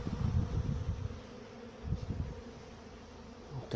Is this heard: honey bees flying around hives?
yes